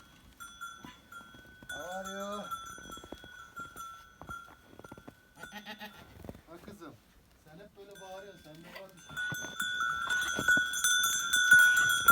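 A goat bleats a few times, wavering cries close by, amid bells clanking and people talking, with a steady tone rising toward the end.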